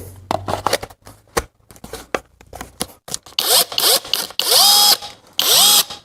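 A KAMOLEE DTW500 cordless impact wrench spins at maximum speed to tighten a nut, first with quick light clicks and short bursts, then several loud rising whirring runs with hammering rattle, close and alone without talk.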